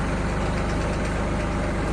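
A tractor engine idles steadily behind the cab in an orange grove, a loud low rumble with an even, continuous throb and no talk.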